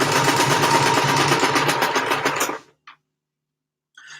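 A sewing machine stitches a leotard in one steady continuous run, then stops abruptly and gives way to near silence with only a couple of faint clicks.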